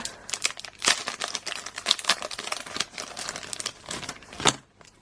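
Crinkly plastic packaging around a small figurine is pulled and torn open by hand, a close, busy stream of crackling and rustling bursts lasting a few seconds, with no talk.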